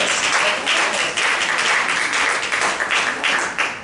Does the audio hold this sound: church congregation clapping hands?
yes